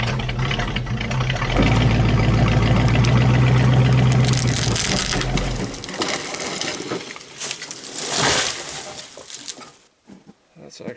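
A straight poplar tree about 10-12 inches thick is shoved over during logging, with a loud engine drone giving way to a crackling, crunching crash of wood and branches, followed by quieter rustling.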